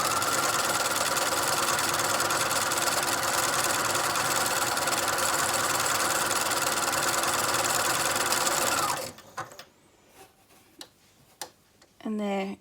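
Sewing machine stitching a blouse, with a loud, steady rapid whir and ticking mechanism running close for about nine seconds before stopping, followed by brief handling clicks and a short burst of running at the end.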